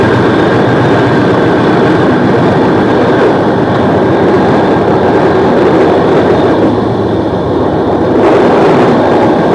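The Kamrup Express passenger train on its night run from Howrah toward New Jalpaiguri rumbles loudly and continuously from on board, a dense rolling roar of wheels and carriages with a tonal whine above and no speech.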